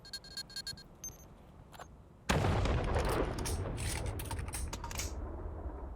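Gunfire in the VR shooter Pavlov VR: a few light clicks, then a sudden loud burst of rapid shots that trails into scattered, closely spaced firing and clattering over the following seconds.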